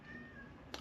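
A pet cat named Missy gives a single short, faint meow at the very end of a quiet indoor stretch, with no talking over it.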